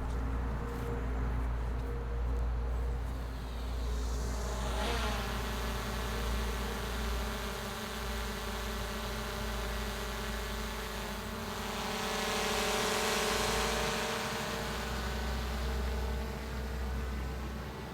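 A DJI Mavic Air 2 drone flies outdoors near bushes, giving a steady high buzzing propeller whine that swells louder as it circles close and then eases off.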